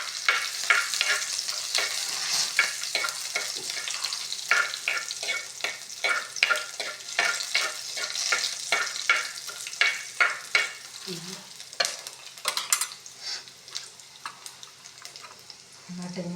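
Garlic frying in hot oil in a pan for a homestyle fish curry, stirred with quick, rhythmic scraping strokes over a steady crackling sizzle, close and continuous throughout.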